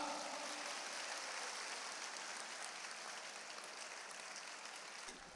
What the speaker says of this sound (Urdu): آپ کی بھرپور تالیوں میں شکریہ ادا کرنے کے لیے جناب قاسم علی شاہ۔